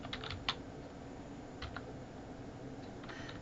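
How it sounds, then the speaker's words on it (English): Computer keyboard typing while entering a middle name between tab presses, a few soft scattered keystroke clicks in a quiet room, close and faint. "I'm going to type in a middle name."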